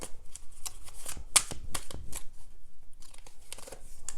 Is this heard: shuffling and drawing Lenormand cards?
yes